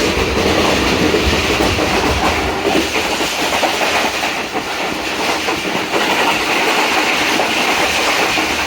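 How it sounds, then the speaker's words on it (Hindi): Steady clattering of train wheels over railway track on a diverted long-distance passenger route, a loud continuous rumble with repeated clickety-clack beats heard from inside the moving coach. "इस सेक्शन में जगह जगह ट्रैक साउंड जो है ना वो वेरी करता है और बड़ा मज़ेदार लगता है।"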